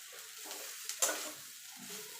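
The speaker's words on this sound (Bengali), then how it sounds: "এবার ভালো করে মিশিয়ে নেব।" A fish chop mixture is stirred and mixed in a bowl with a soft, wet squelching scrape, faint and close. There are a few brief clicks around the middle, and no talking.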